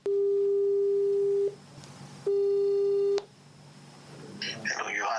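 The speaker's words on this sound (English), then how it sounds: "She punched the numbers on the phone and made a dial." A telephone ringback tone after a number is dialed: two long, loud steady tones separated by a short pause, followed by quieter background noise.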